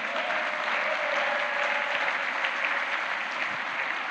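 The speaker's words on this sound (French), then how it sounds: "Est-ce qu'on peut acclamer le Seigneur?" A church congregation applauds during a French-language sermon, sustained, dense clapping from many hands that holds steady throughout without pauses or individual voices standing out.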